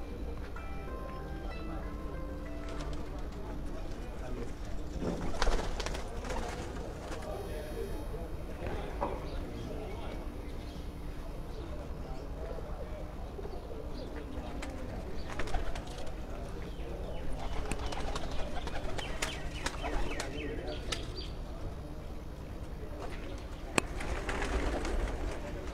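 Breeder pigeons on a rooftop in Naushera Virkan, Punjab, coo and flutter for a long stretch with occasional louder bursts, amid a dense outdoor background.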